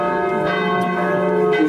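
Church bells ring out over SNP Square in Zvolen to open celebrations of the 200th anniversary of Ľudovít Štúr's birth. The peals are loud and sustained, with rich overlapping tones and no voices.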